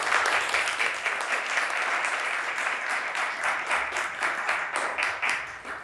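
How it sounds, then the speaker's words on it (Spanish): An audience at a lecture claps in steady, continuous applause, a dense crackle of many hands, moderately loud with no voices. "Les pido un fuerte aplauso"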